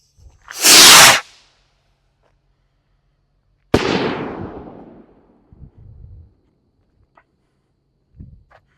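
A 2-inch silver firework ball shell fires with one sharp, loud launch thump, then after a pause bursts with a crackling explosion that fades into scattered pops and crackles outdoors.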